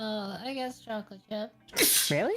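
A person sneezes once near the end, a sharp burst right after a stretch of casual talk.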